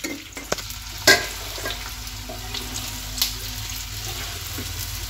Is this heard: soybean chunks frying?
yes